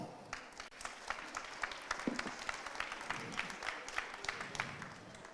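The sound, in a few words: audience applause at a pastry show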